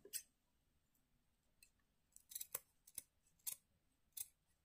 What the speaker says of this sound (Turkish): Üstteki kısmı kesiyorum